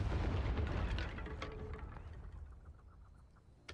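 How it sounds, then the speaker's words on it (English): Confringo spell explosion in the video game Hogwarts Legacy, a loud rumbling boom that decays over several seconds into a fading low tail, ending with a small sharp pop. "the force of the explosion was shown, but there's no fireball"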